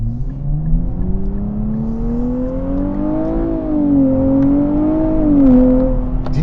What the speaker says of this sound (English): you don't even have to push it that hard to get rewarded by that exhaust note